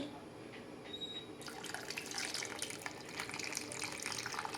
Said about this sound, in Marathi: आता आपण याच्यामध्ये अजून थोडंसं पाणी टाकू